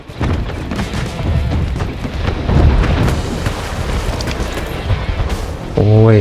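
Naval cannon volleys and explosions roll through an Anno 1800 sea battle between warships, a dense, loud wash of deep booms and rumble that barely lets up, ending with a brief sustained tonal blare.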